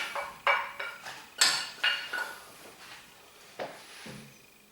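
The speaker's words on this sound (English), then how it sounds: "Give it all a nice stir around, get it all mixed in properly." A spoon clinks and scrapes against a bowl while spring onion is stirred into mashed potato for a cottage pie, a series of close, irregular knocks and scrapes that tail off.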